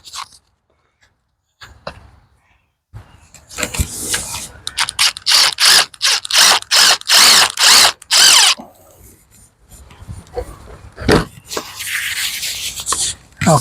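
A power drill drives half-inch screws into a wooden potato box, with a series of loud, close, whining bursts separated by short pauses and a final quick burst after some quieter handling noise.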